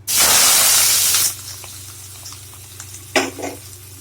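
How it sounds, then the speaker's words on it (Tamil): Curry leaves and shallots hit hot oil for a Chettinadu paneer capsicum thokku, bursting into a loud sizzling hiss for about a second before settling into quieter crackling with a brief flare later. "நல்லா பொரியுது இது பொரிஞ்சிருச்சு"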